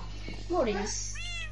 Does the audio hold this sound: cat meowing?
yes